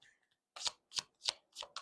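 Tarot cards handled and flipped over at close range, five crisp papery snaps in a quick, regular rhythm after a brief quiet start.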